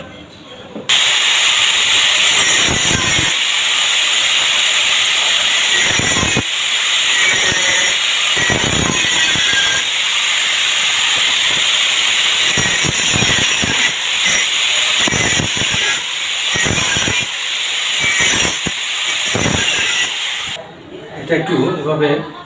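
A motorbike gear lever is being cut to shape with a power tool, producing a loud, continuous high-pitched hissing grind broken by short gaps as the cut stops and restarts.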